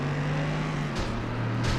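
Race cars lap an oval track in FlatOut 2 on PS2, engines droning steadily at close range with a couple of brief whooshes as cars pass.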